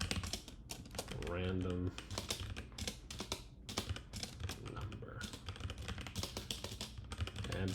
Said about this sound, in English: And here are my terrible typing skills coming into play.